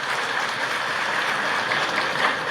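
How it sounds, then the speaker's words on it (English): An audience applauds steadily at a talk, producing a dense, even wash of many hands clapping that stays loud and unbroken throughout with no speech over it. "A big round of applause for that"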